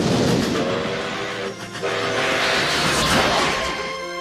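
A train from the Back to the Future film sequence rumbles past loudly with a dense roar and hiss, broken by a brief dip before the heavy mechanical rush resumes, with no talking.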